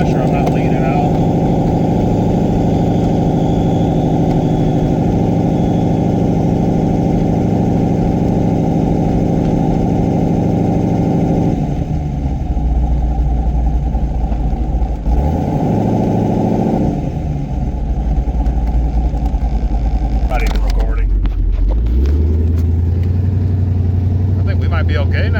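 A car with a Holley Terminator X setup running with no fuel pressure, its engine and exhaust droning loud and steady close by, the tone shifting as it drives, with no talk over it.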